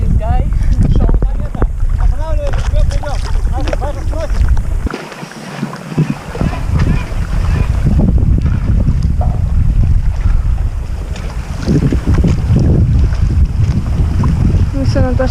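Paddleboarding on Lake Baikal in Siberia, with loud, continuous wind buffeting the microphone and water sloshing around the boards, plus brief voices in the background.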